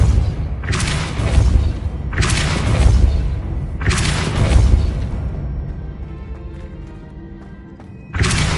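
Depulso force spell cast again and again in the game Hogwarts Legacy: four loud, booming whooshing blasts of about a second and a half each, close and dominant, with a quieter gap before the last blast.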